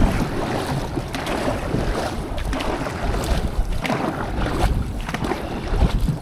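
A dragon boat crew paddles on open water during practice, with rhythmic splashes and strokes repeating over wind and wave noise, fairly loud and close, with no talk.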